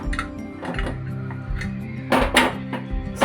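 A cooled pressure cooker is opened in a home kitchen while palak sambar is being made, giving several sharp metallic clanks and knocks of the lid and pot in uneven bursts, close and fairly loud.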